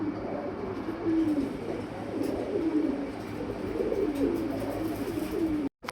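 Several pigeons cooing close by, a continuous layered stream of low throaty warbling coos repeating for several seconds, with no speech over it.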